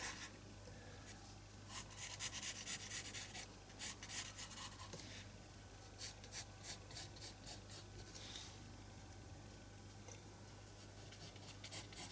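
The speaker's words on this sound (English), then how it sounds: "So I've drawn my sketch lines in." Pencil graphite sketches lines on paper for an art tag, with soft, close scratchy strokes in rhythmic bursts and short pauses between them, and no talking.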